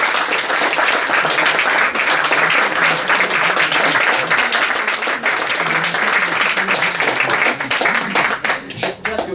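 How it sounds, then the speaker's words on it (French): A studio audience applauds at a history talk show about the American Civil War. The clapping is loud and dense and sounds close, running steadily throughout with only slight dips and no clear speech over it. "J'espère que vous applaudissez à la guerre de sécession."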